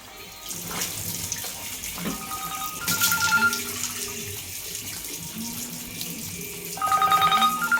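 Running tap water splashes steadily at close range while someone washes their face after waking, joined by a ringing phone tone that repeats in short beeping phrases over the flow.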